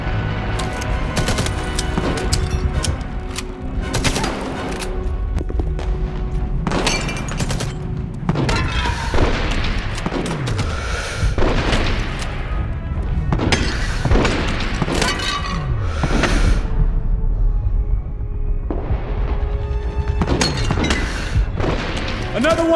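PPSh-41 submachine gun bursts and explosions in a video game, sharp repeated volleys and booms with breaking, shattering debris, loud and irregular, mixed with shouted voices throughout.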